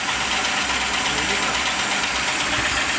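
A Suzuki G16 engine running with an even, steady drone and a low rumble, loud and close, with no break in the sound.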